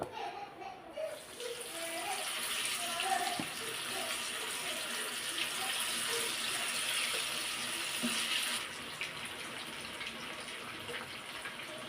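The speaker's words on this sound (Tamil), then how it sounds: "இப்போ வந்து எண்ணெய் காஞ்சிருச்சு, எண்ணெயில் போட்டுருவோம்" Marinated pomfret fish pieces go into hot oil for fish chilly, and a steady, broad sizzle of frying follows, close and fairly loud, easing slightly near the end.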